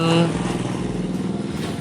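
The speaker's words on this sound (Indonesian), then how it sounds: "ya itu ada motor lewat" A motorcycle passes by outdoors, its engine a steady rapid pulsing throb that rises and fades over about two seconds while a person talks over it.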